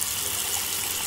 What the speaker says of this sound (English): I need to fill it with water.